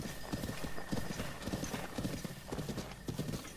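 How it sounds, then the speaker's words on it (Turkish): A horse gallops in The Legend of Zelda: Breath of the Wild, its hooves beating a steady, rhythmic clip-clop that stays close and even for the whole stretch over a bed of game ambience. "Biraz at yolculuğu yapalım lan"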